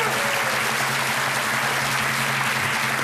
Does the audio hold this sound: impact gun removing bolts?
no